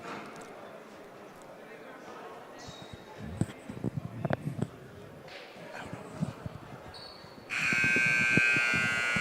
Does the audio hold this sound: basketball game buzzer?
yes